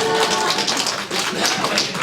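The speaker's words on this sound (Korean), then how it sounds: "다시 한번 큰 박수 부탁드립니다" Crowd applause at a Korean-American community orientation in Los Angeles, a dense, steady wash of many hands clapping that stays fairly even and sustained for the whole span.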